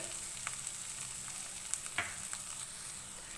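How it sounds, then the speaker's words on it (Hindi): Chopped onion frying in a pan over a medium flame, a low continuous sizzle with a few light stirring taps, quiet and close, no voices. "मीडियम फ्लेम पे इसको हल्का सा फ्राई करेंगे।"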